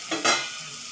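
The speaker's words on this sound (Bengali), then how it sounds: "এখন দিয়ে দেব ভেজে রাখা আলু" Fried potatoes dropped into a hot pan with fried coconut for a Bengali bottle gourd dish, a sharp burst of sizzling that quickly settles into a softer, steady fry, close and alone.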